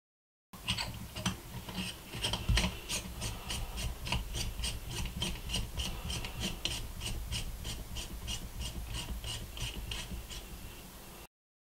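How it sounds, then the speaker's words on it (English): A lens hood adapter screwed onto the back of a Contax lens hood, a close, steady rasping ratchet of fine threaded clicks repeating evenly for about ten seconds without talk. "You just screw the adapter onto the back of the lens hood."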